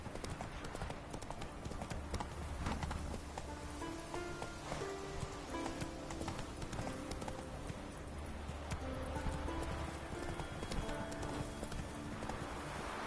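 Hooves of the horse Roach galloping in The Witcher 3, a steady, driving clip-clop rhythm under dense game music and ambience throughout, with a faint voice now and then.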